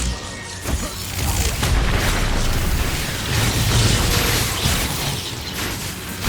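Spell explosions from Expulso and Confringo in the Hogwarts Legacy video game, a run of dense booming blasts and bursts that keep the noise loud and full throughout, with a heavier surge midway.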